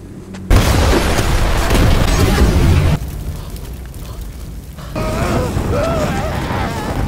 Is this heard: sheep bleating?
no